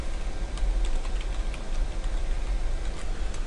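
Keys on a computer keyboard are tapped to enter a search into Google, a quick run of light close clicks over a low steady hum.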